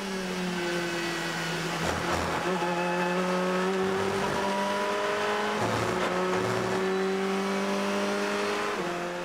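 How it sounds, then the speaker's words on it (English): A high-revving Ferrari 488 turbo race car engine at the 2016 6 Hours of Mexico drones with a steady, buzzing pitch, rising and dipping slightly as it holds speed, loud and continuous with no talking. "The 488 turbo cars sound very different to the 458."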